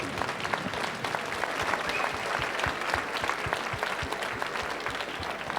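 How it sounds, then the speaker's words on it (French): An audience at a science festival event claps in steady, dense applause that holds at an even level throughout, with no speech. "On les applaudit au Maroc"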